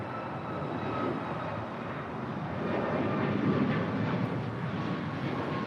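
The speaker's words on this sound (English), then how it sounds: "This is Alaska 1147 departing to Seattle on a MAX 9." Alaska Airlines Boeing 737 MAX 9 departing LAX for Seattle, a continuous rumbling jet roar that builds gently toward the middle and holds, moderately distant, with no voices.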